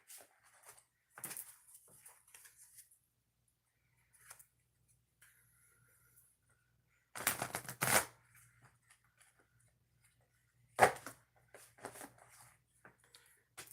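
Oracle cards being shuffled by hand in a few separate bursts of riffling and sliding, with two louder, denser flurries standing out against near silence and small taps between them.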